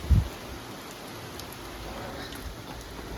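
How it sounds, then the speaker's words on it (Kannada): Steady rain falls outdoors as a soft, even wash of close patter, with a short low thump right at the start and no speech. "ಆಲ್ರೆಡಿ ಮಳೆ ಬಂದ್ಬಿಟ್ಟಿದೆ ಈಗ"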